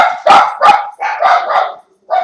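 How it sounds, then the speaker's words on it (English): Several dogs bark loudly and close by in a rapid run of sharp yips and barks, pausing briefly before one more bark breaks out. "That's my dogs."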